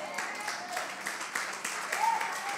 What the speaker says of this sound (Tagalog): Napakahina naman ng palakpak ninyo eh